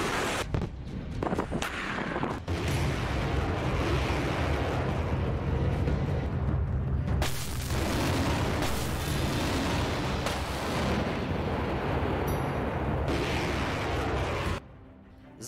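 Artillery shells and missiles strike Ukrainian cities in a continuous, loud roaring barrage of blasts and rumbling debris that runs almost unbroken before cutting off abruptly near the end.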